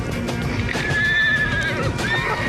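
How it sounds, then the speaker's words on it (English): Wild, fast Mongolian horses whinny loudly over the dull thud of hooves galloping across open steppe, a continuous close, busy sound with no talk. "The horses here are faster or stronger and a great deal wilder than we are used to"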